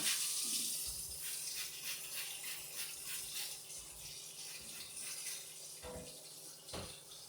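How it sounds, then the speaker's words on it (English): A steady spray of water rinsing hands hisses continuously, with a few brief rattles and splashes breaking through near the end. "I'm gonna spray my hands off again."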